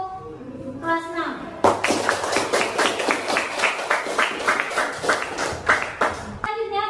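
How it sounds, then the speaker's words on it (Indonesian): A primary school class claps hands together in a classroom, a burst of fast, roughly rhythmic claps lasting several seconds, framed by a teacher's voice talking before and after. "Tepuk tangan untuk kelas 6."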